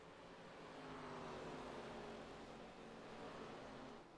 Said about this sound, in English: Hear those cars roar a little bit as we get in a little bit closer on these cameras.